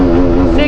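A KTM motorcycle accelerating hard in first gear, its engine a loud, close, tonal drone that holds one pitch with a slight rise through the short burst.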